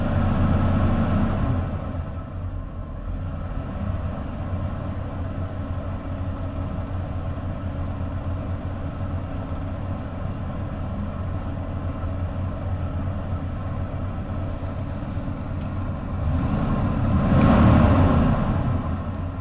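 A Ford bullnose truck fitted with junkyard parts idles with a steady low rumble close by, swelling briefly near the end as the engine revs, with no talk.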